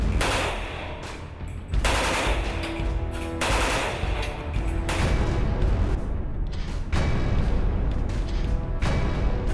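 A full-auto Bulgarian AK-47 with a plastic stock fires long, loud bursts of rapid gunfire, near and harsh, with a few short pauses between the strings of shots.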